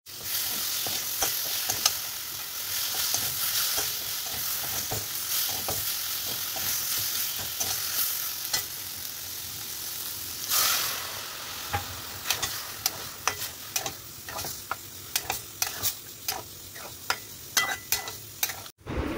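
Ghugni fries in a pan with a soft, steady sizzle while a spatula stirs it, scraping and clicking against the pan in irregular strokes that grow sharper and more frequent toward the end.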